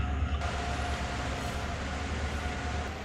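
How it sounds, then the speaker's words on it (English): A GP38-2 freight locomotive in Train Sim World drones with a low, steady engine rumble and a faint high whine, continuous and close for a few seconds without talk. "this locomotive right here is a GP38-2. It's a versatile freight locomotive."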